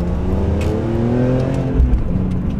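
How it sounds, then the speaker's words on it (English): A BMW M3 engine screams at high revs near its 8,000 RPM peak, a loud, raspy exhaust note with rising harmonics that holds steady and pulls hard. "The high-pitched scream that it gives out makes it sound like it's higher revving than it really is."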